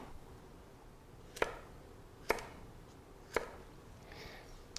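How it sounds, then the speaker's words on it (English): A knife cuts a squared vegetable into large julienne, three crisp, sharp chops on a cutting board spaced about a second apart, close and clean against a quiet kitchen background, with no talking. "And then I'm going to cut out some large julienne."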